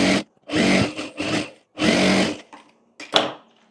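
A sewing machine stitches fabric for a summer co-ord set in four short whirring runs separated by brief pauses, close and loud, with no talk.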